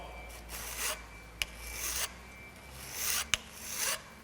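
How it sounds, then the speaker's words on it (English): A metal file rasped across the cut end of a mountain bike handlebar, several separate scraping strokes with small sharp clicks between them, close and clear with no talking. "we're just going to run a file over the end of the bar"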